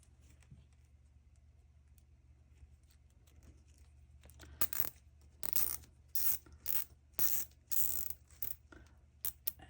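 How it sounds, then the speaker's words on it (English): A zip tie on a floral wreath is pulled tight in a series of sharp, evenly spaced ratcheting zips, close and clear, after a quiet stretch with light handling. "And then I'm going to take my zip tie"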